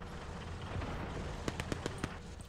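Enemy machine gun fire in a hardcore military shooter game: a quick burst of sharp, distant-sounding shots in the latter half, over a rumbling battlefield din.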